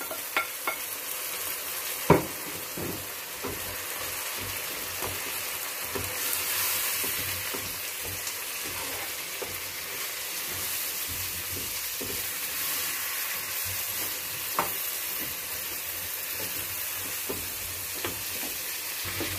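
Brain fry masala cooking in a pan after tomatoes and half a glass of water go in, a steady close sizzle and bubbling hiss with scattered sharp clicks of stirring against the pan.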